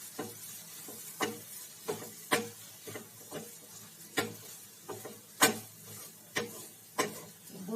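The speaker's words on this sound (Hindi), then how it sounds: "अब मैं इसके अंदर सोया कीमा भी डाल रही हूँ। और इसको मिक्स कर दूंगी।" Eggplant and soya keema are stirred in a pan, a soft low sizzle punctuated by a dozen sharp spatula taps and scrapes at irregular intervals, quiet and close, without speech.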